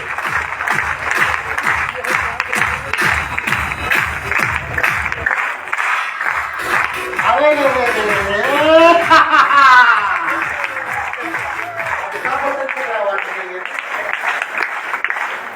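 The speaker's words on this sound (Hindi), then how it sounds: "एक जोरदार ताली हमारे के भैया के लिए" Rhythmic clapping from a seated audience at a DXN business meeting, fairly close and brisk at first, then fading under voices and bursts of laughter for the rest.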